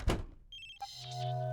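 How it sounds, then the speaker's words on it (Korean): In an animated superhero series, a switched-off mobile phone rings: a dull thump comes first, then a bright electronic ringtone starts and holds steady. No one speaks. "하지만 꺼진 전화로도 전화기가 울립니다."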